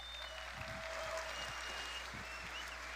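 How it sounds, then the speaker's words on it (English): Audience applause at the Devcon VI main stage in Bogotá after Vitalik's presentation: steady, dense clapping from a large crowd, continuous and fairly distant-sounding across the whole span, with faint voices mixed in. "Huge round of applause for Vitalik."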